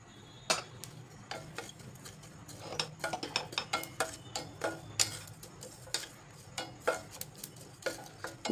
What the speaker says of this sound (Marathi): तर जिरे भाजायचे.